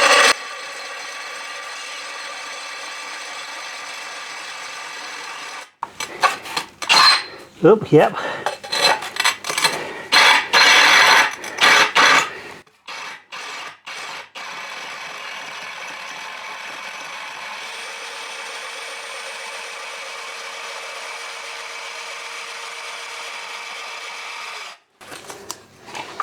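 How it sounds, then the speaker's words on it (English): A power drill whines steadily against tile, with rougher grinding bursts midway and a couple of brief spoken words. "I'm just going to try drill this hole."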